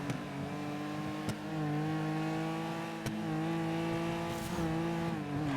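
Car tyres squeal in a sustained drift in GTA 5 RP, a loud tonal screech under a revving engine, shifting in pitch with a few sharp clicks, no talking.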